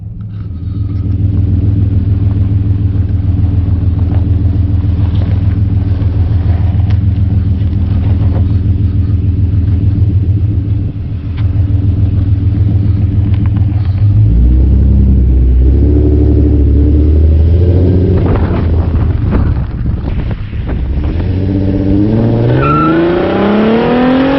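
An automatic car's engine rumbling steadily while driving, loud and close, with a deep low hum that shifts pitch as it accelerates and revs in the second half.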